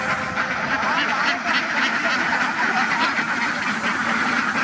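A huge flock of ducks on a duck farm quacks nonstop, forming a dense, loud, steady chorus.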